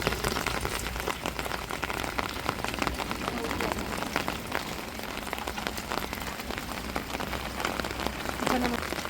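Heavy rain pours in a dense, continuous patter of drops on surfaces close by, steady throughout with a few brief louder splashes near the end.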